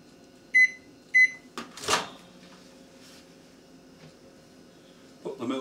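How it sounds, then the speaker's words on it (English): Two short electronic beeps, a door thud, then a microwave oven humming steadily on high while heating milk, with faint clicks and a voice briefly at the end. "Right, the microwave, I've set it to 2 minutes."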